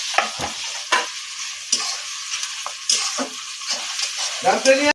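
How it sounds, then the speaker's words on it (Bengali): Onion and garlic sizzle as they fry in a pan, with steady hiss broken by repeated stirring scrapes throughout, close and fairly loud, with no talking over it. "পেঁয়াজ ভালো ভালো করে ভাজা হয়ে গেলে রসুনটা ভালো করে ভেজে নেব।"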